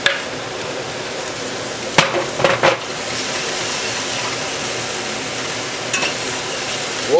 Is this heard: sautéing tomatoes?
yes